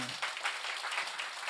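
A church congregation at a Friday evening service claps steadily for a returning mission team, a soft, continuous patter of many hands heard from a distance.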